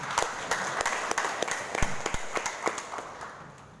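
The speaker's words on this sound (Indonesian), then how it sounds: "tepuk tangan untuk kita semua" An audience at a public dialogue applauds, a scattered patter of many hands clapping at moderate volume that gradually thins out.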